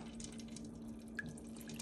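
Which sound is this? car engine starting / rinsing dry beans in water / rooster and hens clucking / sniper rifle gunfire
rinsing dry beans in water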